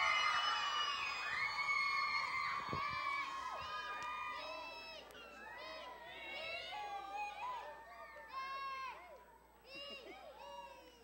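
Children shout and cheer loudly at a team kickoff event, a crowd of young voices whooping and yelling with excited bursts throughout, crowd chatter mixed in.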